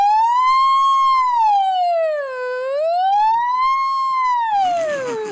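A person imitates a siren with their voice, producing a loud, clear, close wail that rises and falls in two slow sweeps before breaking off into breathy noise at the end.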